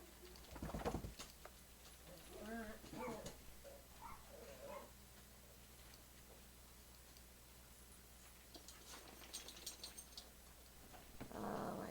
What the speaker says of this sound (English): I'm sorry about the dogs playing in the background